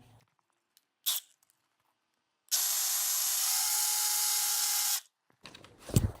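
Angle grinder cutoff wheel slotting the end of a bolt: a loud, steady, high-pitched abrasive whine lasting a few seconds, set between brief knocks and handling noises, with no talk.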